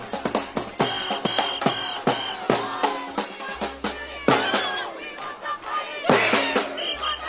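A remaining protest crowd lingers after a police dispersal, with loud overlapping shouts and chatter in bursts from many voices close by, punctuated by sharp sounds.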